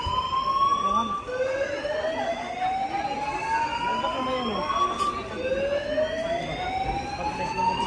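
A fire alarm wails through the building on a shopping day, sounding as continuous rising electronic sweeps that repeat every few seconds, loud and steady with a busy background.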